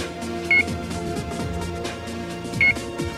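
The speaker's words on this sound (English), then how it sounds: "the ODU will start beeping according to the antenna alignment status" Two short electronic beeps from a Radwin 2000 outdoor unit signaling antenna alignment status sound about two seconds apart, clear but brief, over a busy background of music-like tones and clatter.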